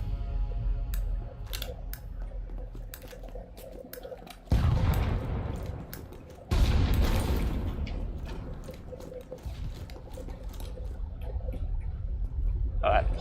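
Gunfire in a shooter video game, with rapid clicking shots and two heavy booming bursts that rumble for a couple of seconds, while a player talks over the action throughout.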